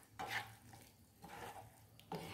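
A spoon stirs masala macaroni with tomato sauce in a pan, giving a few soft scraping and clinking strokes up close, quiet and without talk.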